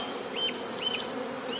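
Italian honey bees buzzing after their hive is shaken, a steady dense drone of many insects close by with a few louder individual bees passing, no talking.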